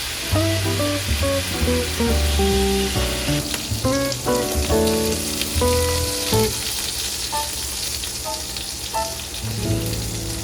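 Scallops too moist to brown well sear in a hot pan, giving a loud, constant hiss and crackle beneath a melodic music track.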